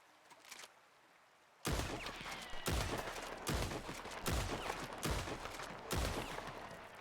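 Gunshots fired at a rock in the Western roleplay game RedM: five or six loud, sharp shots in a steady rhythm after a quiet start, each one ringing out briefly before the next.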